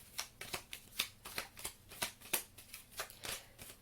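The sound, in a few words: tarot cards being shuffled and drawn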